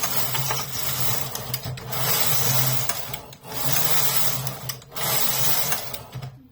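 A Zippy Plus knitting machine with an SRP60N ribber knits plain stockinette rows as its carriage makes several sweeping, scraping passes with a steady hum beneath, pausing briefly between rows.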